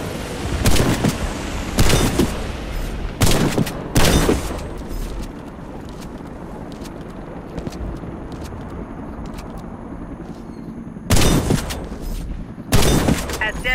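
A medic's shotgun firing in the video game Warface, heavy single blasts at irregular intervals, loud and close, with a longer quiet stretch of street ambience in the middle.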